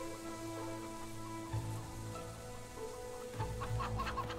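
Chickens cluck in a medieval village in the video game Fable 3, short clucks rising over steady rain-like ambience and a low droning music bed, with clucking clusters around the middle and near the end.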